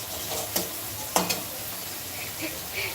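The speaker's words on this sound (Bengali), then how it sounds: "এখন রান্না করছি" Food frying in a pan during home cooking, a steady close sizzle with a few sharp clinks and stirring scrapes of a utensil against the pan.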